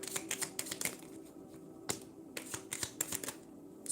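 Tarot cards being shuffled by hand, close up, a series of sharp riffling snaps and soft rustles in irregular bursts, with no talking.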